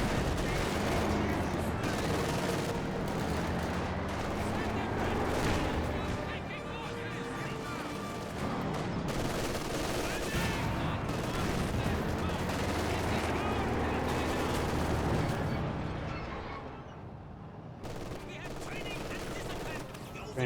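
Gunfire from a sniper and other weapons in a Company of Heroes 2 battle, a dense stretch of shots and bursts layered over a steady roar of combat, loud throughout with a brief dip near the end.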